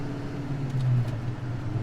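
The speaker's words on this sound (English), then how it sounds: "So that was basically a perfect downshift." Close engine note of a 700hp manual Ford Mustang downshifting into third, with a low steady rumble that swells briefly at the throttle blip, then settles back to a continuous idle-like drone.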